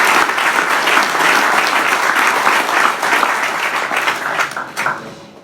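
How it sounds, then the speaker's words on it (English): Crowd applause at a mayor's 2018 State of the City address: dense, loud clapping that holds steady and then thins and fades toward the end. "Give yourselves a round of applause"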